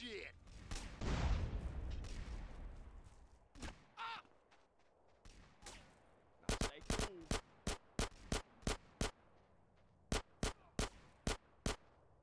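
Gunfire in the video game GTA San Andreas: a loud burst near the start, then a string of sharp, evenly spaced shots that come in two volleys, with game sounds between them.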